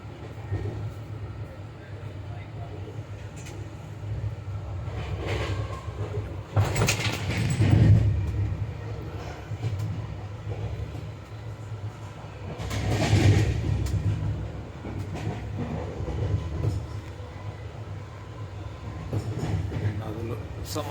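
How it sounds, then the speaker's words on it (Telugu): A train runs between Nellore and Vijayawada with a steady low rumble and rolling clatter, swelling twice as it passes over something louder. Faint voices can be heard in the background. "నెల్లూరుకు విజయవాడకు మధ్యలో ట్రైన్ వెళ్తుంది"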